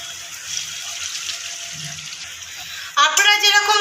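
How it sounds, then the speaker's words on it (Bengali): Water poured into a pan of egg curry masala being cooked with butter, a brief bright splashing gush arriving near the end after a stretch of quieter kitchen background. "এবার আমি আরও একটু জল এর মধ্যে মিশিয়ে দেবো"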